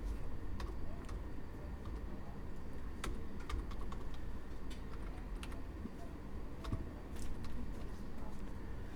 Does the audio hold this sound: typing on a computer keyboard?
yes